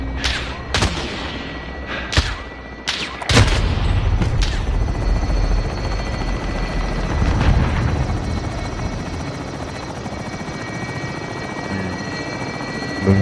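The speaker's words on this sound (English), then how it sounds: "Helo is in position." A helicopter drones steadily through a Call of Duty match while several sharp gunshots crack out early on, loud and close, followed by continuous rotor and engine noise with scattered smaller reports.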